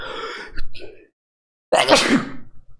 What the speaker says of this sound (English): But hang on, I gotta sneeze.